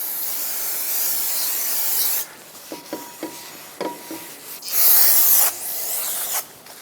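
Brake parts cleaner hisses from a can onto the rear parking brake shoe of a 2014–2019 Toyota Highlander in long, close, steady sprays, with a few light taps and handling noises in the pause between bursts.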